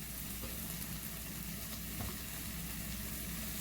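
Boiled pumpkin goes into a pot for Jamaican-style pumpkin takari, giving a faint, even sizzle with a few soft clicks and shuffles over a low background hum, no speech.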